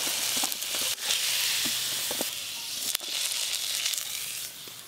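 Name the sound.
eggplant slices frying in oil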